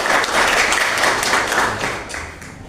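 A classroom full of students claps for group 4 as its representative heads to the front: a dense, steady burst of many hands clapping that holds strong, then gradually thins out near the end.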